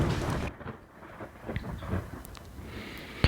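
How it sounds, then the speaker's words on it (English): Big hail pelts a stalled car in a violent tornado-producing storm, a dense rushing clatter punctuated by sharp, scattered impacts close around the vehicle. "Big hail. Doing major damage to my vehicle."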